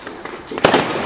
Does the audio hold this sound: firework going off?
yes